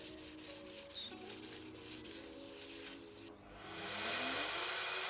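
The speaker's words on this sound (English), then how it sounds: "remove the amine blush, I think it's called, with warm water and a scotch pad I had" Steady rhythmic rubbing strokes of a scotch pad with warm water scrape against a painted surface, then shift into a louder continuous scouring rasp, close up with no voices.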